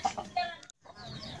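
A chicken clucks in short bursts, several near, fairly loud calls with a brief silent pause partway, then continuing busier farmyard noise.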